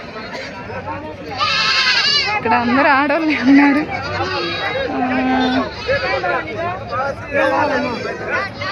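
Billy goats at a livestock market bleat several times amid a busy crowd, their wavering cries rising over close conversation and general hubbub.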